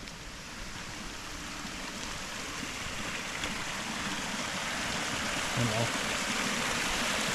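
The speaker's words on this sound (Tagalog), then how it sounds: "Oh, lakas ng agos doon." A strong river current rushing over rocks at a campsite, a steady broadband roar close by and continuous, with a person speaking briefly over it.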